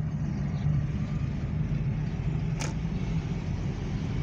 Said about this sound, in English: People down here enjoying life, riding in their golf carts.